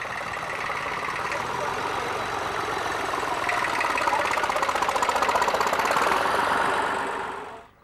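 A tractor engine carrying about thirty refugees runs steadily with a rough, knocking chug, loud and close throughout, rising slightly in the middle before fading out near the end.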